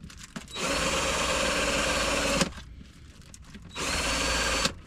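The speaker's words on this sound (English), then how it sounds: "drilling through a card like this," A power drill whirs steadily through card in two bursts, the first about two seconds long, then a pause and a shorter second run, close and fairly loud.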